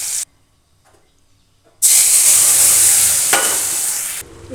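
Cashews and paneer for a malaikari frying lightly in a pan, a loud steady sizzle and hiss that starts abruptly after a quiet pause and holds for a few seconds before dropping off.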